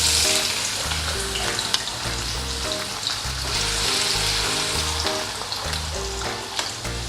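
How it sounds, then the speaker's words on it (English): Potatoes frying in oil in a pan for lemon rice, a loud, steady crackling sizzle with occasional stirring scrapes, close and continuous with no talk. "Now we'll start with frying the potatoes."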